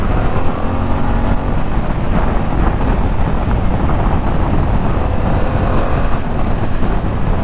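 A 2021 Harley-Davidson Pan America adventure motorcycle on a ride, its engine a steady loud roar blended with heavy wind rush across the microphone, continuous with no talk.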